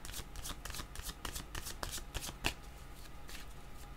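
Playing cards shuffled for a card reading, a quick run of crisp riffling flicks and snaps at close range with no voices.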